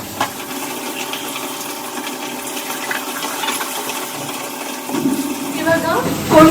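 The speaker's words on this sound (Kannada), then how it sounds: "ಇವಾಗ ಅಕ್ಕಿ ವಾಶ್ ಮಾಡಿ ಫಸ್ಟು ಅನ್ನಕ್ಕೆ ಇಟ್ಕೊಂಡ್ಬಿಡ್ತೀನಿ." Rice being washed in water, a continuous close splashing and swishing of water with a louder slosh near the end, alongside some background voice.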